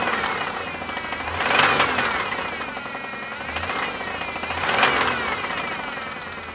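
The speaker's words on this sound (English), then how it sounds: "So listen to it when I rev it up." A car engine that has just had a hub bearing and drive axle replaced revs up twice with a rising then falling roar, a faint tapping running underneath, with no talk over it.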